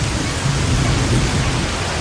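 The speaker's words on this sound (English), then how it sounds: "So today, as you can see, we have a heavy rain." Heavy rain falling hard at a construction site with welded structures, a loud dense wash of noise with a low rumble underneath, steady throughout and no voices.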